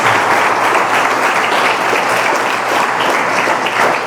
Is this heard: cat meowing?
no